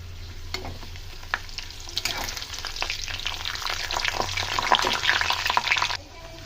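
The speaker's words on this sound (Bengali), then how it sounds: "কড়াইতে দিয়ে দিচ্ছি সর্ষের তেল। পাঁপড়গুলোকে ভেজে নেব।" Papad pieces frying in mustard oil in a wok, with a steady close sizzle and frequent crackling pops that grow busier and louder before stopping abruptly near the end.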